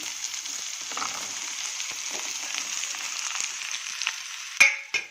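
Pumpkin pieces fry in hot tempering oil, giving a steady close sizzle with faint stirring scrapes and two sharp utensil clinks near the end, no voices.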